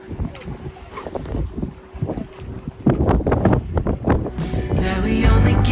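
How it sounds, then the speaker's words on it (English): A sailboat cruises on autopilot with its sails up in calm, pleasant weather, water sloshing and splashing against the hull as wind buffets the microphone, growing louder and rougher toward the end. "we're just sort of having a little chill sail, which is quite nice"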